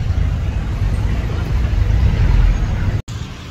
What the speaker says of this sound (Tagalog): Kasakay na sa jeep.